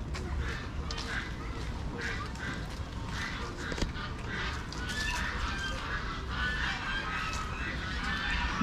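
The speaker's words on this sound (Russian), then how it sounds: "Видимо, кормят гусей, кидают им кушать." A flock of geese honking in a Japanese-style garden park in Tashkent, continuous noisy overlapping calls from the birds heard at moderate distance amid general outdoor ambience and faint voices.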